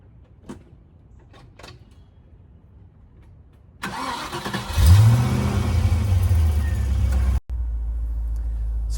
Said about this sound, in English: So I'm hearing that same sort of hum of the V8 engine that I heard during the driving videos.